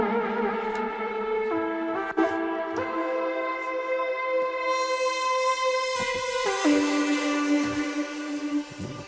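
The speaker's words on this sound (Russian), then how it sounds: "Слышишь, вот это вот эхо." An old Soviet effects instrument demonstrates reverberation and echo: sustained synthetic tones step between pitches, each trailing long decaying reflections, with no talk over them.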